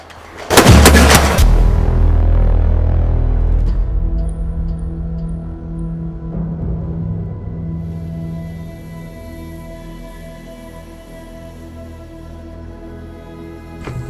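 A single loud rifle shot in .444 caliber cracks at an outdoor shooting range, followed by a long, slowly fading echo that rolls on for many seconds with no other shots.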